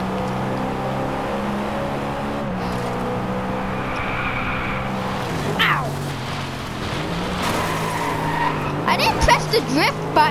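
A car drifts in the racing game Driveclub, its engine droning steadily while tires squeal in rising, wavering streaks, loud and close, with more squeals and scrapes toward the end.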